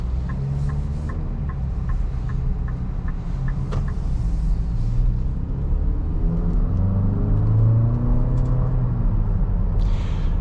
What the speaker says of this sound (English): this turbocharged 4-cylinder engine does just fine in this car